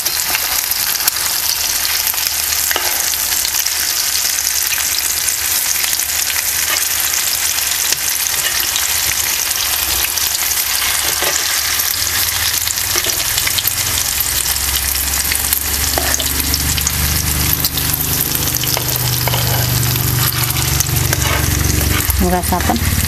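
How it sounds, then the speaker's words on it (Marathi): Potato and besan snack sizzles steadily in a hot pan, with occasional scrapes and soft knocks as the pieces are turned; the frying stays continuous and fairly loud throughout, with no talking. "आपण हे परतून घेऊया म्हणजे चव चांगलं लागेल"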